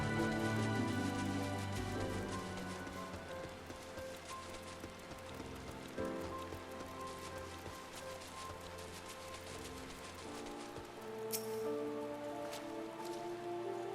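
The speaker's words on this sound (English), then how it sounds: "Oh, luckily it's raining, so that helps out." Steady rain pattering in Final Fantasy XIV's Gridania forest area, a continuous soft wash of drops on surfaces running throughout, layered with the game's background music.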